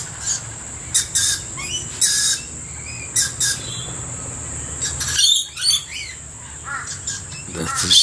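A baby blue-faced honeyeater or lorikeet gives repeated sharp calls and squawks in short bursts at a backyard bird sanctuary, fairly close and loud, with other birds chirping around it.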